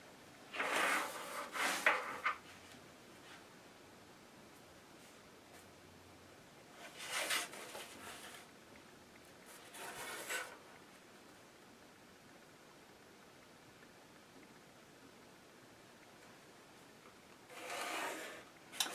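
A pencil sketches a square on paper in a few separate bursts of close, dry scratching strokes, with quiet pauses between them.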